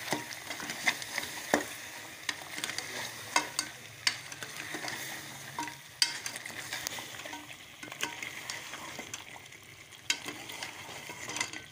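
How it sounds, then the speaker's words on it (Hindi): Spices and pieces of food sizzle and get stirred in a large pressure pot, with quiet steady frying and regular scraping taps of a spoon, close up and with no talking. "इसको थोड़ा सा भून देती हूँ।"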